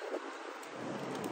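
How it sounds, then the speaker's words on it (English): Wind blowing outdoors, buffeting the microphone in a continuous rough rush of noise with slight gusty swells. "it's kind of getting windy out here"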